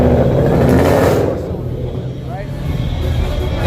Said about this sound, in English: Got a BMW. Ooh. Is this the... I think this is the 4-cylinder turbo.